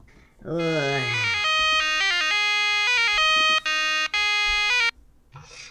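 A telephone rings with a loud electronic tone, a rising warble giving way to a steady repeating chime pattern with brief gaps before it stops, followed by faint sounds.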